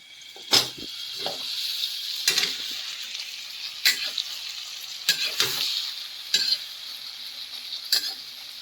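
Dairy Milk chocolate added to Maggi noodles cooking in a pan with butter, heard as a soft, steady sizzle broken by about seven sharp scraping stirs of a utensil against the pan at irregular intervals.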